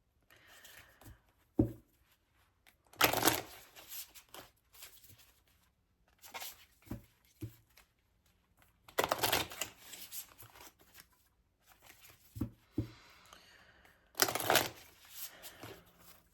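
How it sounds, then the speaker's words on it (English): A tarot deck is shuffled and cards are drawn, giving soft, close bursts of riffling and flapping at intervals with faint taps and handling noises between them. "So I'm just going to draw some cards for the overall energy."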